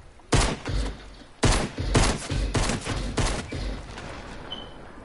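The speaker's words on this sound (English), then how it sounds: "I'm gonna laser him with my awesome pistol." Pistol fire in a video game shooter: a burst of sharp shots, then a longer run of rapid reports with brief gaps, loud and close, with no talking over it.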